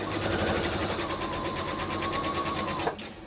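A sewing machine stitches steadily with a fast, even mechanical chatter at close range, then halts abruptly with a small clunk near the end.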